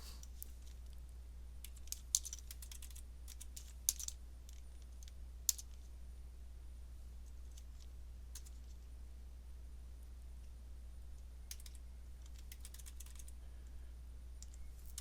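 Keystrokes patter on a computer keyboard in irregular bursts, soft and fairly close, with a few sharper clicks over a low steady hum.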